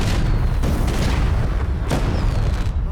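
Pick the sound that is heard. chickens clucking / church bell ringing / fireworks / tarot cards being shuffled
fireworks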